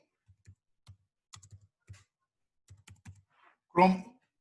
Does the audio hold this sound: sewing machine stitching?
no